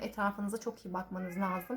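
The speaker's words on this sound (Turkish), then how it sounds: "dışarıdaki kedilerimizin sesi geliyor mu bilmiyorum şu anda" Cats outside meow repeatedly in drawn-out, wavering cries, heard alongside a person talking.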